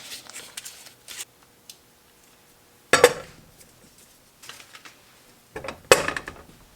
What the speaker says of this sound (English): I'm going to add my butter and my brown sugar to a sauce pot